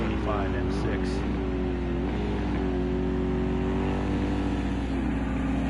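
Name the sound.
BMW M6 race car engine in a racing video game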